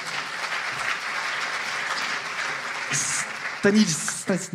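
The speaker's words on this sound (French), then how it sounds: "on peut les applaudir" Audience applause at a startup pitch-battle semifinal during a web festival, a steady broad wash of clapping from the crowd with a few louder bumps near the end.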